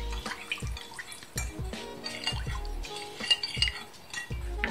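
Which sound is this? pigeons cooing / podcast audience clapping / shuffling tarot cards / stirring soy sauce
stirring soy sauce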